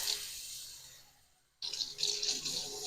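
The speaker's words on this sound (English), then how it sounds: "we're going to start with just 2 cups of water in a saucepan" Water is poured into a saucepan, a soft rushing stream that fades away to near silence, then returns louder with bright splashing and trickling.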